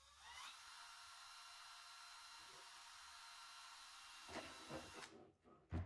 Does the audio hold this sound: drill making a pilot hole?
yes